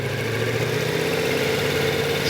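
A car engine idles with a heavy, steady drone and then slowly gains revs, a continuous close hum with no talk over it.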